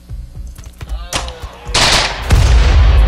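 Rapid video-game gunfire rattles close and loud, a chain of sharp shots that builds into heavier blasts and a rumbling barrage, while a voice talks over it.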